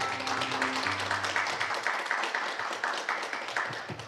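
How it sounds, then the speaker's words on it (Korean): Scattered applause welcomes a speaker at an academic conference session, light and fairly sparse clapping with a few distinct claps, moderately distant, with a faint voice early on. "박수로 환영해 주십시오."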